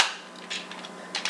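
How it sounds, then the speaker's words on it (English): Plastic legs of a Power Rangers RPM High Octane Megazord toy clicking into place, heard as a few short, sharp snaps close by, with light plastic handling noise between them. "Well, his legs are clicking."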